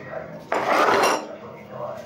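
Sugar and sesame filling for sesame kachori being mixed in a bowl, a half-second burst of scraping and clinking against the dish that fades back to quiet handling noise.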